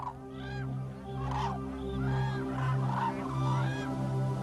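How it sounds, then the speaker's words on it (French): Black-necked cranes on the open grassland of the northern Tibetan plateau call with loud, repeated honking cries over a steady low hum, several calls in a row close by. "Dawa, du petit village de Banjerling, a ramassé cette grue au cou noir blessée en faisant paître son bétail."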